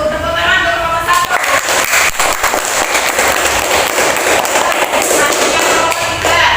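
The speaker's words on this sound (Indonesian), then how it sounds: "Tepuk tangan untuk kelompok 1" Classroom applause for a student group, dense steady clapping from many hands with some cheering, sustained and loud throughout.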